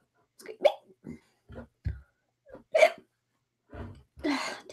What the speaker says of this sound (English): Why is there times where burps sound like hiccups?